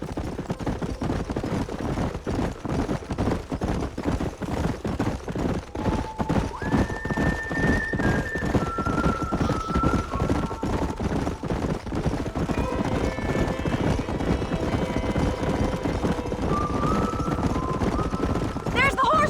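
Horses galloping and neighing in Red Dead Redemption, hooves clip-clopping in a rapid continuous rhythm while several whinnies ring out over the herd, with music and voices mixed in.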